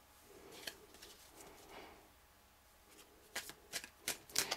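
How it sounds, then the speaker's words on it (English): Tarot cards are shuffled a few times, soft riffles at first, then a series of sharper, louder snaps and flicks close by. "I'll do a few more shuffles."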